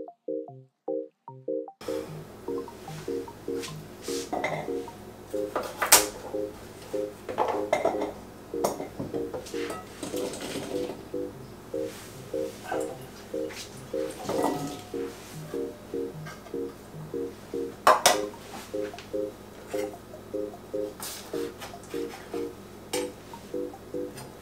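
A knife and spoon scrape, tap and clink against a dish or board while fruit is cut up and cleaned, a string of short, close clatters over a soft steady background hum.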